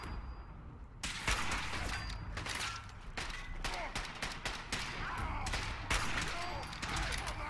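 Gunfire in Fallout 4, with rapid, dense volleys of sharp shots crackling almost nonstop at close range through a noisy battle.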